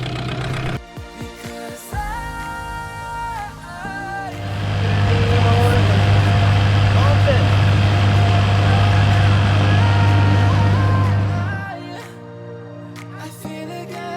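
A dinghy's outboard motor runs steadily and loudly for several seconds with a strong low hum, starting and stopping around brief speech.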